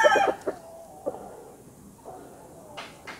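Hens and young roosters cluck near the start, followed by a few brief, scattered clucks and calls in a quiet farmyard.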